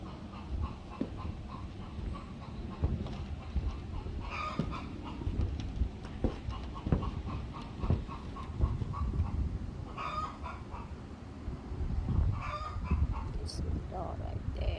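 Chickens cluck and call in a backyard chicken run with a new wire extension, scattered clucks and a rooster-like call over steady outdoor background, with someone talking at times.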